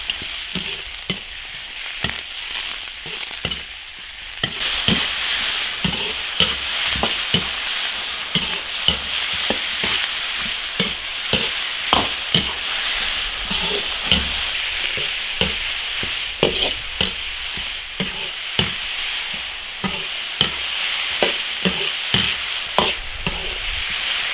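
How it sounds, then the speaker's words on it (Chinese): Chicken pieces stir-fry in a hot iron wok with ginger and garlic, a steady loud sizzle broken by frequent scraping and tossing clatters of the spatula throughout, with no talking. "下鸡煸炒， 把鸡的水分煸干。"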